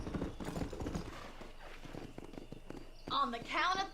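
Horse hooves clip-clopping in Red Dead Redemption, a quick rhythmic trot of close hoofbeats with people talking over it, followed by a short burst of louder tonal game sound near the end.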